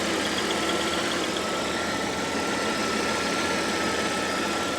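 A 1995 Pontiac Bonneville's engine idles steadily at close range, a continuous even rumble with a broad hiss and no voices over it.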